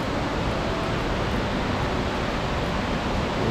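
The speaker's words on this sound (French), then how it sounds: "et là on arrive à encore une autre cascade" A mountain waterfall on a hiking trail near Lac de Gaube and Pont d'Espagne, about forty metres high, cascades in a steady, loud, broadband roar with no pause and no voices.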